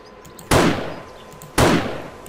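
Two sharp gunshots from the video game 7 Days to Die, spaced about a second apart, each a loud close blast with a short decaying tail.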